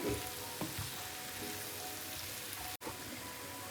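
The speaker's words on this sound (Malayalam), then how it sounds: "ഇനി ഇതിലേക്ക് നമുക്ക് മുളക് പൊടി ചേർത്ത് കൊടുക്കാം നന്നായിട്ട് മുളക് പൊടി യോജിപ്പിച്ച് കൊടുക്കാം" Garlic, ginger and chili powder sizzling in oil in a pan while being stirred, a steady close crackling hiss with occasional scrapes, running without pause apart from a momentary cut near the end.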